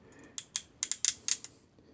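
Hilitchi hand crimping tool's release mechanism clicking: a quick series of about eight sharp, close metallic clicks in uneven rhythm, alone in a quiet room.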